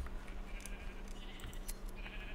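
A Minecraft sheep bleats a few times, fairly faint, over a low steady background hum.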